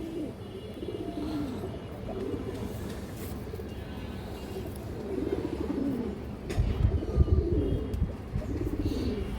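Domestic pigeons, including silver, khaki and brown-necked birds, coo in repeated low rolling phrases close by, with an occasional wing flutter and a busier stretch of cooing near the end.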